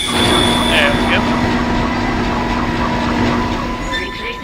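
A tram car rolls along its track in the sci-fi horror game Dead Space, a steady loud rumbling ride with a humming drone and occasional metallic squeals, continuous throughout.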